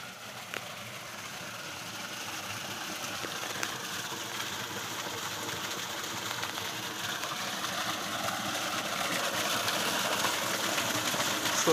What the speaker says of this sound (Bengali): এই যে পাম্পটা এখানে চলতেছে,